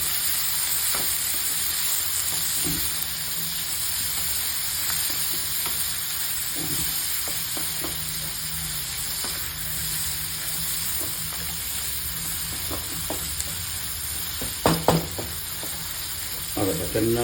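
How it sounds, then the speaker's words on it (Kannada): Boti fries in a pan with fenugreek leaves, sorrel and mint, a steady close sizzle with occasional stirring clatters and scrapes, growing busier near the end. "ಆಮೇಲೆ ಇದಕ್ಕೆ ಸ್ವಲ್ಪ ಮೆಂತ್ಯ ಸೊಪ್ಪು, ಚುಕ್ಕೆ ಸೊಪ್ಪು, ಪುದೀನ, ಇದನ್ನೆಲ್ಲ ಹಾಕಿ ಇದರ ಜೊತೆಗೆ ಫ್ರೈ ಮಾಡ್ಕೊಳ್ಬೇಕು."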